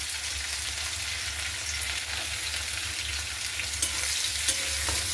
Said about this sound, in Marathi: आता दोन कांदे कापून घेतले ते घालून घेऊ